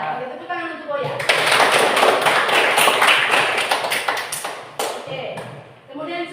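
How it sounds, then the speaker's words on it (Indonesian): A classroom of students claps for a classmate, a dense burst of many hands lasting several seconds before tapering off, with a teacher's voice briefly before and after. "Oke, tepuk tangan untuk Boya."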